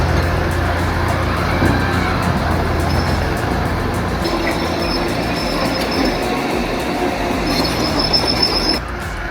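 Heavy continuous mechanical roar of a German-made Hammel 600 hydraulic industrial shredder processing wood scraps and waste, loud and steady with grinding rumble and faint high whine, then cutting off abruptly near the end.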